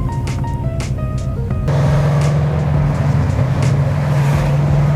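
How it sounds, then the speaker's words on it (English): Ford Mustang engine running during a test drive, a loud steady low drone with a shift in pitch partway through, heard from inside the car with no talk. "Mustang is on the ground and running."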